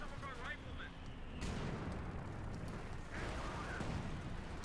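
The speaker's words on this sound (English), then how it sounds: "Got another Stuka bomb drop!" A Stuka dive bomber's bomb drop in Company of Heroes 2 lands as a broad, rumbling explosion in the middle of ongoing battle noise, with bursts of combat sound and gunfire around it.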